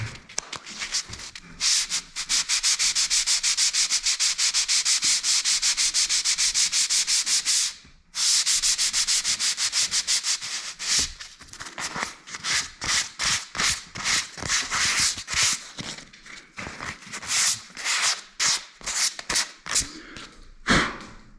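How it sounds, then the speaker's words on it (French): Ceiling surfaces during a renovation being hand sanded with sandpaper: a steady, close, loud scraping that runs continuously, breaks briefly, then turns into choppy back-and-forth strokes with no talk. "petit coup de ponçage"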